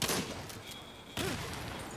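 Gunfire in the zombie shooter Into The Dead 2, a couple of sharp shots standing out over game background noise, with someone speaking briefly.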